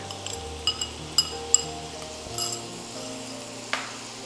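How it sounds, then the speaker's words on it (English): Chopped onions sautéing in a pan for Indian dhaba-style egg masala, a soft steady sizzle with intermittent clinks of a spoon stirring against the pan. "Mix it well and saute it till the onions has changes color to light brown."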